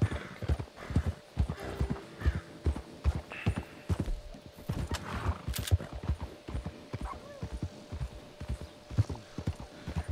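Rhythmic thudding of horse hooves galloping steadily in the video game Red Dead Redemption, close and loud, with occasional faint rattles and a brief high whinny-like accent.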